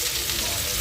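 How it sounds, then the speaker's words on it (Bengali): Pointed gourd (kundru) sizzles in a pan with a steady, dense hiss filling the whole short moment, loud and close. "তরুলি বা কুঁদরি বেশ কিছুটা ভাজা হয়ে গেছে"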